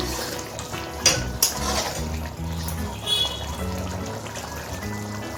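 Egg curry gets stirred in a pot after garam masala goes in, with metal spoon clinks and scrapes against the pan over a wet, bubbling simmer, two sharper knocks near the start.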